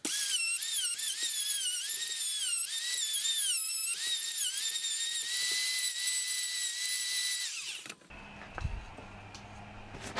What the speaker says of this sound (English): That's probably on the guide on how not to use a router, but I don't care